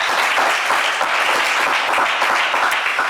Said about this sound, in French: Dimitri, on va vous applaudir bien fort